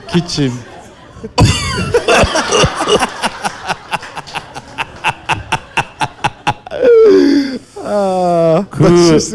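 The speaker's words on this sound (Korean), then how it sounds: "기침해봐, 기침." A person gives a series of short, forceful coughs in quick rhythmic succession, close to the mic, preceded and followed by groaning vocal sounds.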